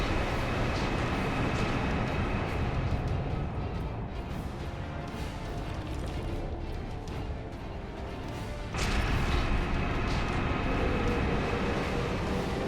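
A train rumbles past in the Warhammer 40K Space Marine video game. The roar is loud and continuous, grinding and clattering, and swells abruptly partway through.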